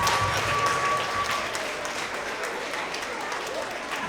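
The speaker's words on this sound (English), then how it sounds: "Let's give them a round of applause." Applause for third graders at a school awards assembly, a steady wash of clapping from a crowd in a hall that gradually softens, heard at a moderate distance with faint voices mixed in.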